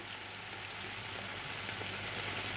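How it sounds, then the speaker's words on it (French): White wine poured into a pan of sizzling peppers, giving a steady broadband hiss of frying at moderate level, continuous and without talk. "Je mouille avec le vin blanc."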